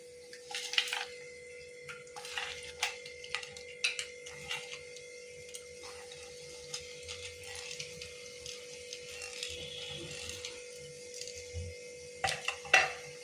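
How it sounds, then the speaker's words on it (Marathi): Whole garam masala spices hit hot oil in a kadai, giving scattered crackles and sharp ticks over a steady background hum, with no talk. "आता कढईमध्ये तेल गरम झालेलं आहे, त्याच्यात आपण सर्वप्रथम खडा गरम मसाला टाकूया।"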